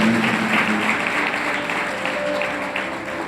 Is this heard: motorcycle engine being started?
no